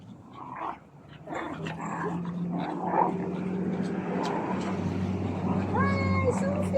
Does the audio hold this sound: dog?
yes